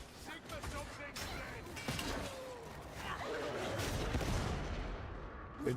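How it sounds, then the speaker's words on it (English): A video game grenade explosion lands amid dense gunfire and crashing effects, a loud booming burst within continuous chaotic combat noise, while a player talks over it. "Well-timed grenade"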